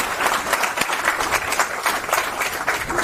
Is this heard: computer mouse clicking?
no